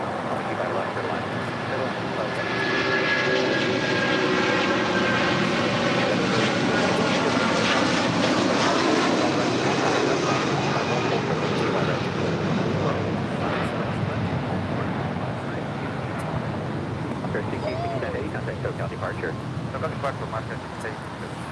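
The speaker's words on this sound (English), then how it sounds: "6867 taking off to Guadalajara on an Airbus 330-200 converted freighter" An Airbus A330-200 converted freighter taking off at LAX, its jet engines a loud, sustained roar that swells and then slowly fades, with a voice talking over it.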